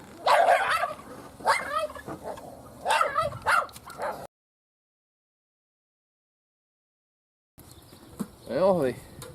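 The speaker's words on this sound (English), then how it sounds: "She's a brave dang dog." A dog barks in a few sharp bursts, some whiny and yipping, followed by silence, then another short series of barks nearby.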